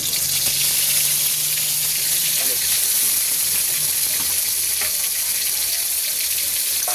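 Spices crackle in hot oil as a vegetarian dish is tempered with nigella seeds and ginger-cumin paste, a steady close sizzle and hiss with occasional pops, alongside faint background voices.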